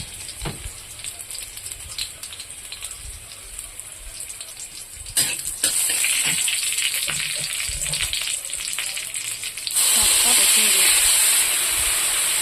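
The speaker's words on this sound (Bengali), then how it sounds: "আমার চিকেন কষা হয়ে গেছে, এখন শাকটা বসাবো" Leafy greens fry in oil with garlic, chili and black cumin, a close hiss that jumps louder partway through and swells again to a fierce sizzle near the end.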